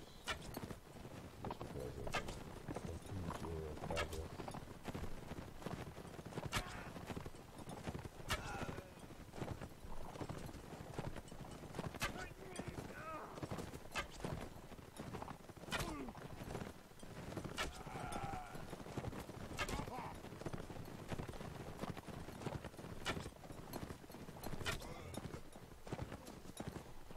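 Horse hooves clatter at a gallop during a battle in the Mount & Blade Warband mod Nova Aetas, a continuous busy clip-clop with sharp impacts mixed among other battle noise.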